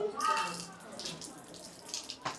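Water runs from a tap into a bucket in a hostel washroom, a steady splashing gush with brief voices nearby.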